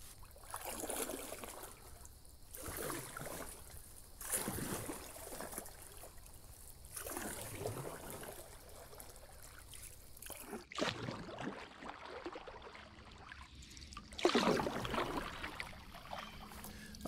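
A small safety-pack paddle dips and strokes through water, giving a series of soft splashing, trickling pulls roughly every couple of seconds, fairly quiet and close, with no voices.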